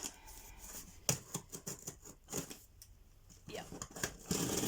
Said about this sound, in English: Just going to use my scissors to get into it.